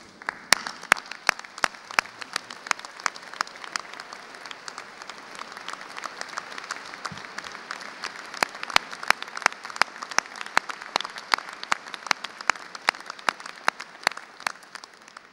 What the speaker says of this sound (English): So please stand up and give your family and friends a round of applause